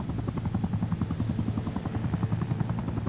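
A helicopter circles overhead in the Batman: The Dark Knight Rises video game, its rotor chopping in a steady, fast pulsing rhythm with a continuous engine drone, loud and unbroken with no voices.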